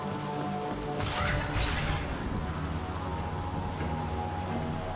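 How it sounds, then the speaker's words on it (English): Steady rainfall at a Cerberus facility in the Mass Effect 2 game, a continuous dense hiss with a couple of sharper impact crashes early on, people talking over the soundscape. "I don't think we've ever seen rain before, have we?"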